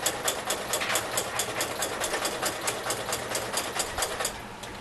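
A sewing machine hems the rough edges of a fabric apron, a close, steady, rapid chattering of needle strokes running throughout.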